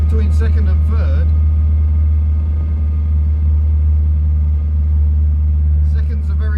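A car engine drones steadily during a test drive, a low, constant hum through the cabin, with a voice speaking briefly at the start and again near the end.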